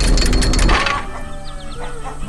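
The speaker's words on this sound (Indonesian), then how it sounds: "Ayam-ayam ini sangat disiplin ya." Chickens cluck as they board a truck, a loud burst of fowl noise up close at first, then fainter scattered clucks over a steady background rumble.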